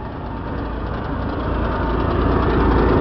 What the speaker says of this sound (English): you can see that the generator is running on this motorhome because it's going on and off